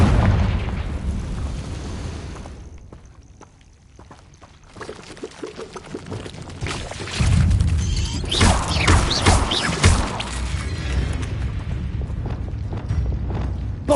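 A Confringo spell blast in Hogwarts Legacy on PS5: a rumbling build-up dips quiet, then swells into a loud, prolonged explosive roar with crackling, crashing bursts that continue for several seconds.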